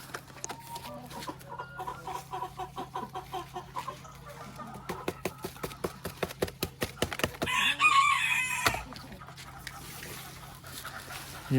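Chickens cluck in a rapid rhythmic series on a farm alongside newly hatched chicks, followed by a rooster crow and a dog bark nearby, with brief cheeping peeping calls.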